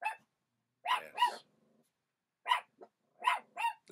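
Dogs barking and growling indoors in short sharp bursts, a couple of quick barks, then a pause with a low growl, then more clustered barks, close and loud against a quiet background.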